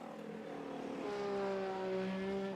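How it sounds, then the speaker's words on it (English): A race car engine in an endurance sim race at Spa, revving high and bouncing against the rev limiter, a buzzing, stuttering drone heard at a distance under the broadcast. "Some unusual noises from the Balka Racing car."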